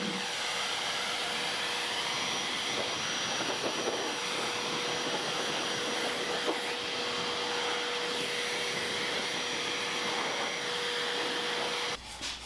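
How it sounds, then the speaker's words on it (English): Steady, loud whirring roar of a vacuum cleaner's exhaust blowing air, with a constant high whine running throughout and cutting off abruptly at the end. "I'm going to use just the air from the exhaust of the vacuum just to blow off the excess"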